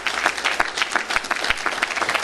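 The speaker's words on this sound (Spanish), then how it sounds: "Den un aplauso al Señor." A church congregation breaks into dense, continuous applause with many overlapping hand claps, steady and fairly loud throughout, with no talking.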